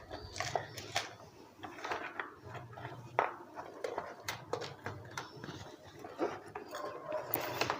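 A sewing machine stitching a thin folded side edge on a plain cross-cut blouse, its low motor hum running in short bursts with light mechanical clicks between stops.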